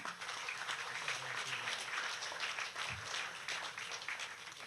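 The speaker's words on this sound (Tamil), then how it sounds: "அவங்களுக்கு ஒரு பெரிய பலத்தை கைத்தட்டல் கொடுத்துருங்க" Audience clapping at a Tamil debate (pattimandram) event in Kumbakonam, a dense, continuous patter of many hands at moderate level throughout, with faint voices underneath.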